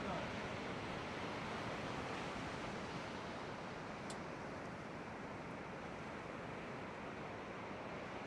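Surf rolling and breaking at a youth surf contest, a steady broad wash of waves that fills the whole stretch without distinct individual crashes, mixed with wind noise on the microphone.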